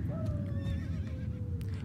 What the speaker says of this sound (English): Oh, Lisa, my horse doesn't like it up here